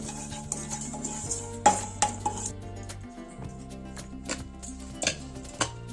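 Spoon scraping and clinking against a bowl while mixing fried sesame seeds into a sweet somas filling, irregular metallic taps and chinks over soft stirring, close and moderate in volume.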